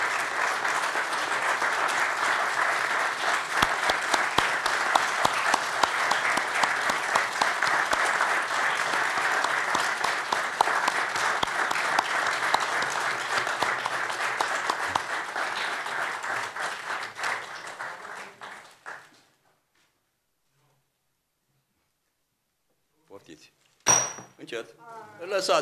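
Audience applause at the opening of a municipal emergency hospital's medical days event in Moinești: sustained dense clapping for about nineteen seconds that fades to silence, then a few brief sharp knocks near the end.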